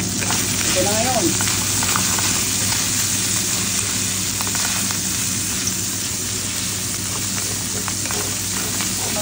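Green beans frying in a pan with black beans and garlic, a steady dense sizzle continuing throughout with occasional faint clinks and a brief voice-like sound early on.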